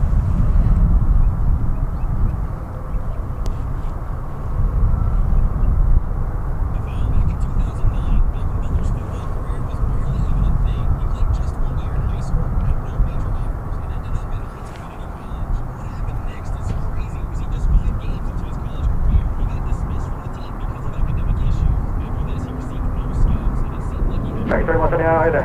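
An airliner on the move at DFW International Airport in Dallas–Fort Worth gives off a steady, heavy low rumble for the whole stretch, with faint muffled voices drifting underneath.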